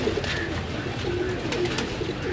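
Rooftop pigeons cooing close by, several soft repeated coos over a steady backdrop of other birds and faint ambient noise, no talking.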